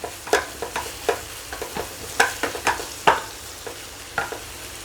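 Soybean and onion samosa filling with finely chopped ginger stirred and fried in a pan, with repeated scraping stirs and light sizzling in an uneven rhythm, close by with no talk.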